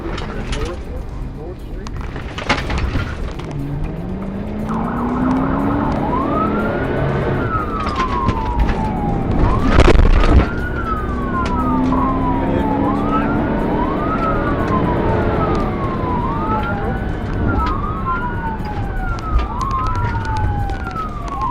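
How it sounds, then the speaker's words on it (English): A police siren wails in repeated rising and falling sweeps over steady traffic noise and engine rumble, fairly close and loud. "The patrol moves in, lights flash, sirens cut through the noise."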